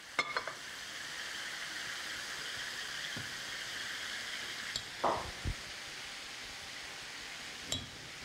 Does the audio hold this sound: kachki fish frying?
yes